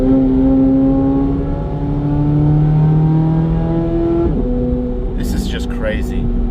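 A Corvette C8 Z06 with engine modifications and active exhaust valves in track mode holds a loud, steady engine drone with a shifting pitch, then drops sharply near the end as revs change, with talk over it.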